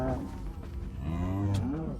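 A Mooshroom cow in Minecraft Dungeons moos in a long, low, wavering call, loud and close, with a brief higher sound near the end.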